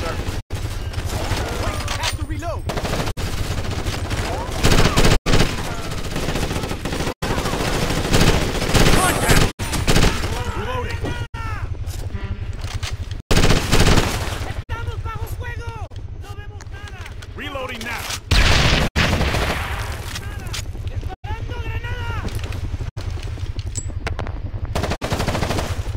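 Automatic and single gunfire from Ghost Recon: Advanced Warfighter, a near, loud and steady stream of shots with short gaps, heard under game voices and radio chatter.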